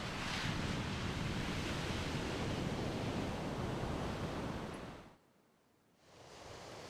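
Waves wash steadily against a rocky Rhode Island shore in winter, a dense, close, continuous hiss and roar that briefly drops away before swelling back in.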